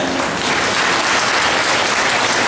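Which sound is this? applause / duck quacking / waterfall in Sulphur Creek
applause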